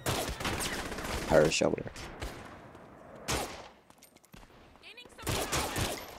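Gunfire in the video game Saints Row the Third, several sharp bursts spread across the clip, mixed with game sounds and someone talking over them.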